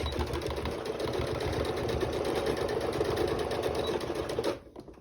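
A sewing machine stitches the fabric exterior of a basket in a fast, even mechanical chatter close by, then stops abruptly just before the end.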